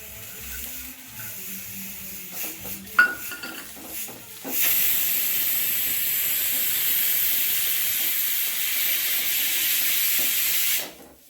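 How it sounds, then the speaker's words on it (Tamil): Grated coconut roasting in a hot pan for kadala curry starts with soft clattering and a clank, then breaks into a loud, steady steaming hiss that runs for several seconds before cutting off. "தேங்காய் நல்லா வறுக்கணுங்க"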